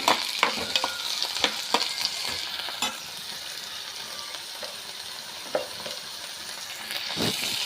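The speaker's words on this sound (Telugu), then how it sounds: "ఉల్లిపాయ నూనె వేడెక్కింది, వేసుకున్నాను. ఉల్లిబందు, కొత్తిమీర, ఉల్లిబందులు, ఉల్లిపాయ వేస్తాను." Sliced onions frying in hot oil for a crab curry, a steady close sizzle broken by scraping stirs and spoon clicks in the pan, with no voices.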